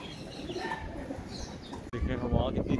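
A pigeon coos nearby on a windy day, its soft calls mixed with gusty wind noise and voices.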